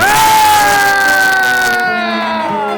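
At a festa junina dance contest, the crowd lets out one loud, drawn-out cheer for a dancing couple, a sustained rising and falling shout that stays close and fades slightly at the end.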